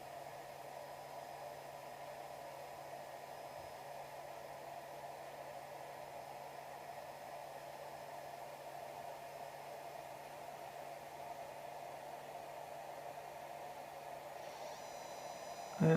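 Monoprice Mini SLA resin 3D printer running a print, a very quiet steady hum and hiss with a faint tonal whine, continuous and unchanging, with a brief louder click at the very end.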